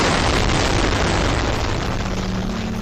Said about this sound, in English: The explosions clearly powerful enough not only to cause damage to the buildings themselves